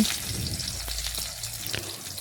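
Chopped onion hits hot oil already seasoned with whole cumin and a bay leaf, giving a steady close sizzle and hiss with small crackles and a few stirring clicks, with no talking over it.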